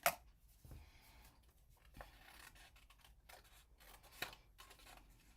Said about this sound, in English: Let's go ahead and cut these out